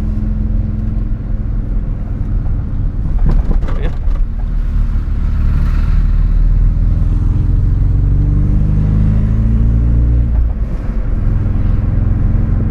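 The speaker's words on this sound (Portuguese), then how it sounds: "O carro ficou andando bem mais liso, hein, galera?" A square Volkswagen Gol rolls along on 15-inch rims, its engine a steady close drone with a swell of revving partway through, heard from inside the car.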